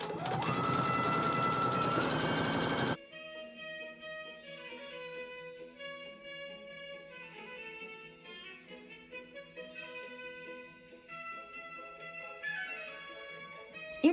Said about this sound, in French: on est à la machine et on coule les ourlets tout au bord